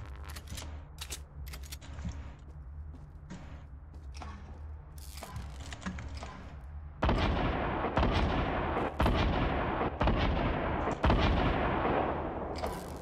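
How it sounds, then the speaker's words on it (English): Rapid gunfire and booming blasts from a PC shooter game, a steady rumble of shots for several seconds, then louder, denser bursts of cracking fire with repeated sharp peaks. "there's so much shooting, so many explosives going around, and no one dies"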